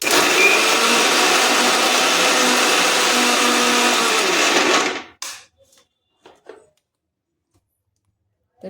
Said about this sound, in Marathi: तर इथे आपण हे आपण मिक्सरला लावून घेऊया